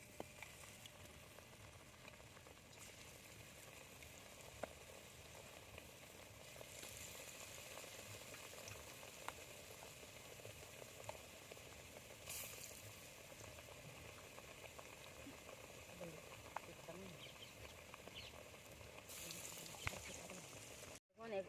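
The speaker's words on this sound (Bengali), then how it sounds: "বাকিগুলোও ভেজে নেবো" Eggplant fritters coated in gram flour batter frying in mustard oil, a steady, even bubbling sizzle that continues for the whole stretch at moderate level with no talk over it.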